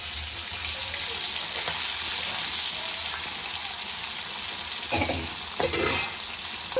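Fish deep-frying in a pan of oil hisses steadily up close, with scattered sharp crackles and a few louder spattering pops toward the end.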